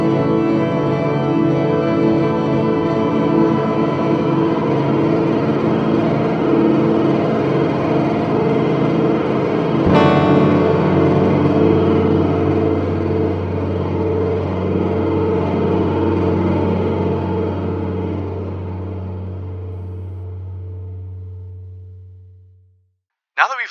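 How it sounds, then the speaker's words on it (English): A TC Infinite Sample Sustainer holds a frozen, sustained tone while its vibrato knob is turned, producing a steady layered drone with a shift midway, then fading out near the end and stopping with a brief click. "Now I'll turn the knob to adjust the vibrato of the frozen sound."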